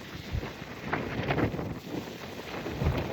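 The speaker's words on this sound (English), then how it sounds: "it is windy, man" Wind buffets the microphone, producing a steady rumbling, gusty roar with low thumps and no voices.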